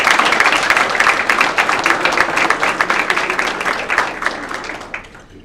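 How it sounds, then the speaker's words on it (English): A school board meeting audience gives sixth graders a round of applause: brisk, loud clapping with distinct individual claps that holds steady, then thins out and fades over the last second. "Let's give our 6th graders a round of applause."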